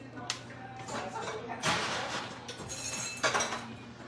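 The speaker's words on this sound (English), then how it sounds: "So I am going to fill this glass up with ice." Ice cubes clattering into a cocktail glass while a spritz with Zamaro and Prosecco is being made, a few loud clinks and rattles in quick bursts, with talking nearby.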